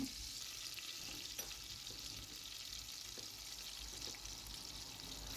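Garlic paste and then onion paste frying in hot oil for a Sylheti Rani fish bhuna, giving a steady, close, continuous sizzle and hiss with a few faint stirring clicks and no talking.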